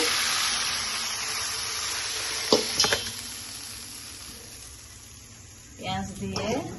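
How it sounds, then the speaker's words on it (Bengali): Fish tipped into hot oil in a Bengali home kitchen for a coconut fish curry, giving a steady broad sizzle throughout, with a brief clatter midway and someone speaking over it near the end. "আমার মাছগুলো আমি এখন ঢেলে নিচ্ছি"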